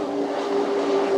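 A special edition Cootercraft offshore superboat with a Mercury Racing engine roars steadily during an 85 mph race on Corio Bay, a loud continuous drone with no pauses.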